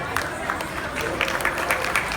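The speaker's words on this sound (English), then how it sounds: "we have another round of applause?" Audience applause at a Navaratri 2015 stage event, continuous crowd clapping with scattered louder claps and a faint voice in the background, steady throughout.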